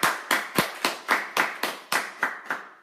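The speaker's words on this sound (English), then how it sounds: "So my advice to all of you is to clap up for Anastasia." A small audience claps for roughly ten steady, evenly spaced beats, loud and close, with no talking over it.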